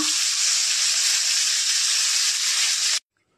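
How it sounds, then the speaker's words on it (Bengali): Cumin seeds and a bay leaf dropped into hot oil, a loud, dense, continuous hiss for three seconds that cuts off abruptly to silence. "ওই তেলের মধ্যে আমি জিরে ফোড়ন দিলাম, তেজপাতা"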